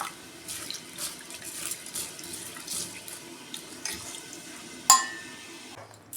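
Tap water runs into a vessel to soak a mix of lentils for a restaurant-style tarka dal, a steady close splashing stream with a sharper splash near the end.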